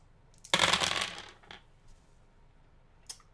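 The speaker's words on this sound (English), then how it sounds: "I have to roll dice in this" Dice tumble and clatter across a hard surface in one bright rattling burst, then a couple of softer ticks and a final small click as they settle, quiet and close with no voices.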